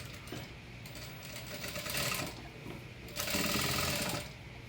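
A sewing machine runs steadily while stitching a puff sleeve, its motor whirring in bursts that swell louder around the middle and again near the end, with no talking.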